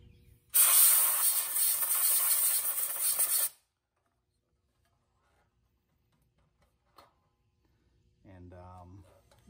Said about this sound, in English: So I'm going to use some compressed air down into there.